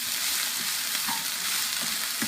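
Vegetables stir-fry over high heat in a pan for Gujarati-style vegetable chow mein, a continuous bright sizzle with a few soft scraping stirs, no voices.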